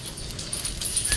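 A basset hound whimpering close by, with soft, thin, high whines and yips across a brief moment, fairly quiet, with no talk over it.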